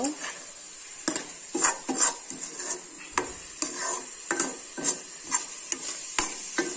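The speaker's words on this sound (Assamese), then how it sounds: "এনেকৈ কচলিখন খুব খৰকৈ লৰাই থাকিবলৈ দিব নহ'লে কেৰাহীত লাগি যাব" A ladle scrapes and stirs a coconut and milk powder mixture in a wok, producing about a dozen rhythmic, close scraping strokes with faint sizzling between them.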